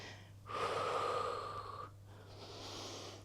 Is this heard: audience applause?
no